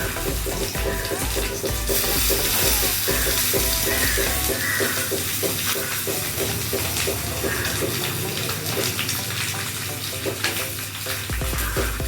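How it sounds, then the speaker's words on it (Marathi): Cashews and almonds dry-roasting in a pan for a festival thali, giving a steady close sizzle with stirring scrapes that runs unbroken throughout. "हे काजू बदाम सगळं मी आता भाजून घेणार आहे ह्याच्यामध्ये छानपैकी."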